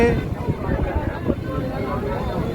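Wind and the rumble of a launch boat out on the deep sea near the ship MV Kavaratti off Lakshadweep, a steady blustery roar with boat noise beneath a voice talking.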